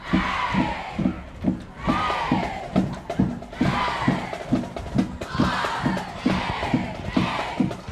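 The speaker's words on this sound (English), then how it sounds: "This Rancho crowd sounding like a small college crowd." At a varsity high school football game between Santiago and Rancho Alamitos, the home crowd cheers loudly and steadily. Rhythmic claps or stomps beat out a regular pulse beneath the roar.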